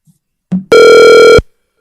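A telephone call is placed: a short click and tone, then one loud, steady ring tone lasting under a second, with silence on either side.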